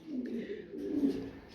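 Domestic pigeons at a pigeon farm give low, throaty coos in two soft swelling bursts, close and fairly quiet.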